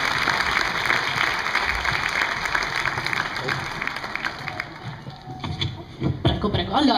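A concert audience applauds for a young performer, with loud, dense clapping that thins out and fades toward the end, while some voices murmur faintly underneath.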